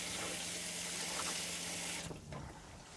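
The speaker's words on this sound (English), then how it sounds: "So if I want to turn the shower on, I simply turn it on." Steady broadband hiss of a camper's shower running for about two seconds, then the flow cuts off and shifts to a quieter, uneven trickle.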